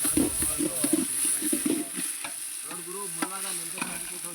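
Masala for chicken biryani sizzles in a pan while being stirred, a steady frying hiss with repeated scraping strokes of the spoon, cooked in a village setting with voices talking faintly in the background.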